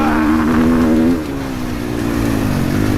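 GASGAS dirt bike engine under throttle on a riding track, a loud buzzing drone whose pitch climbs and then drops as the rider backs off, staying steady and near.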